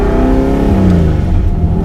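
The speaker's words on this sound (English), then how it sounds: "Nothing sounds like Dave's 66 GT350." A 1966 Shelby GT350 Mustang V8 roars under load from inside the car, a loud continuous rumble with a rising rev sweep, steady and close with no talking.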